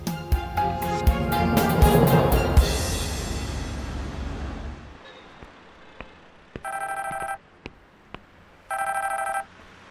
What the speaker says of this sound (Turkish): Hadi Gülseren, aç şu telefonu